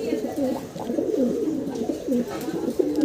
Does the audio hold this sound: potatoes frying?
no